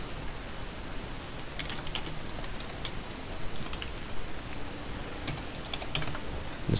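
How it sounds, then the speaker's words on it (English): Soft, quick keyboard clicks tap away in irregular bursts over a quiet room hiss, close and fairly faint. "Just typing this in."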